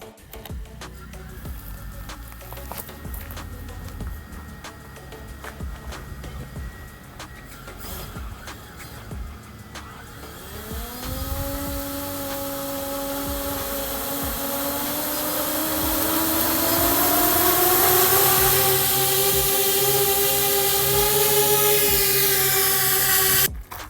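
A repaired enemy drone carrying a 1.6 kg payload spins up from quiet clicks into a rising multi-rotor whine, with the pitch climbing and the sound growing steadily louder and nearer as it lifts off.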